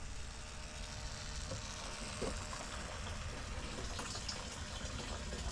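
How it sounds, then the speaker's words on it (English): A Camaro fuel pump wired to a battery pushes fuel into a container, giving a steady, faint rushing gush of liquid with a constant hiss throughout and no voices. "She's putting in the fuel."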